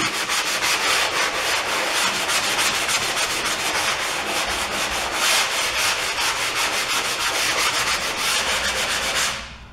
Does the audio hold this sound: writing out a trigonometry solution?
no